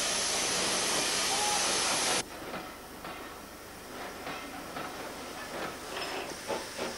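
A standard post-war 262 steam tank locomotive passes station sidings on the Wirral: a loud steady hiss of steam opens the clip and cuts off abruptly, followed by quieter rumbling rail noise with faint clanks.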